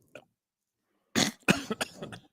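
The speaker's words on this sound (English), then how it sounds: "coughs when he's lying" A man coughing at close range on a live-streamed show, several harsh rapid coughs in a cluster after a short pause, following a faint earlier sound.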